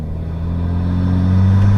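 A BMW 335i with the N54 twin-turbo engine, fitted with a sound tube and no baffling, hums steadily at light throttle from inside the car, a low droning engine tone rising slightly, close and loud.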